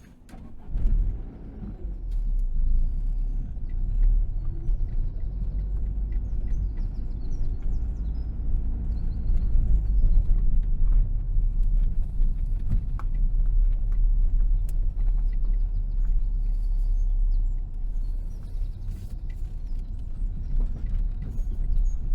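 A car driving along a road, its steady low engine rumble and road noise running continuously and close throughout, with no talking.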